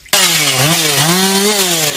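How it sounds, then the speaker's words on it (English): A chainsaw cutting up a tree that fell along Shoal Creek Road after a storm, starting abruptly and running loud and close with a steady buzzing whine whose pitch dips and rises as the chain bites into the wood. "A worker fired up a chainsaw to cut up another tree that fell a short distance away on Shoal Creek Road."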